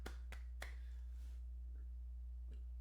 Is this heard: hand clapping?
yes